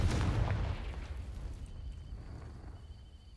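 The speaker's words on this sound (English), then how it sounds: "These dry vines are one spark away from becoming kindling. Confringo." A Confringo fire spell bursts against dry vines in Hogwarts Legacy, opening with a loud, boomy blast that fades into a crackling, decaying rumble with a faint high tone lingering near the end.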